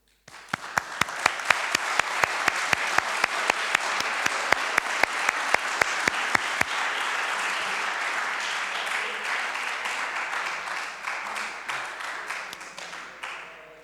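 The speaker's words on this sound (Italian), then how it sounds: "indirizzerei un applauso di grande apprezzamento" An audience at an apprenticeship program event gives sustained applause of appreciation, with strong rhythmic individual claps over dense crowd clapping before the rhythm dissolves and the clapping gradually fades toward the end.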